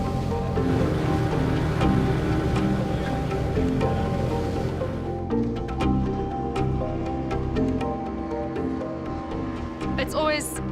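Ocean waves crash and surge against the rocky Cape Peninsula, a continuous loud roar of surf with wind rumble, heard from a boat out on open water.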